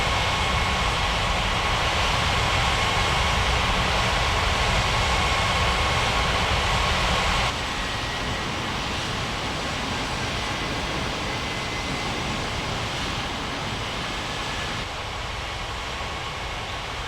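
An airliner's engines roaring steadily during takeoff in an airport control video game, a continuous broad rumble and whine with no talking.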